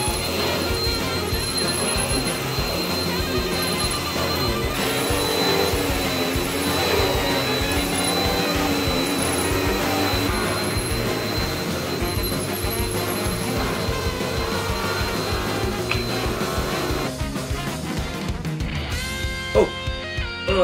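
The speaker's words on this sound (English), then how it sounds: "You remember the last time you vacuumed?" A vacuum cleaner runs throughout with a steady loud whooshing motor drone and some clattering and rattling near the end, and speech is partly mixed under it.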